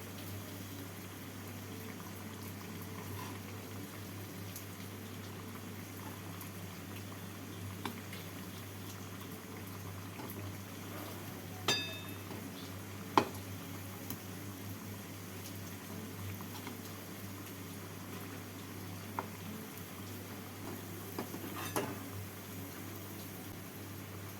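Small flour and milk-powder pithe cakes fry gently in oil over low heat with a soft, continuous bubbling, a steady low hum and a few faint clicks.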